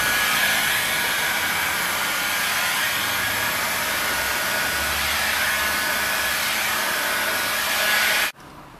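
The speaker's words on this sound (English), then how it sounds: "You just get the film kind of flapping in the breeze from the heat gun" A heat gun blows steadily on vinyl wrap film during vehicle wrapping, a loud continuous airy roar held for about eight seconds before cutting off abruptly.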